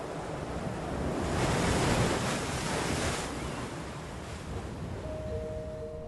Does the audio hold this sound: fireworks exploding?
no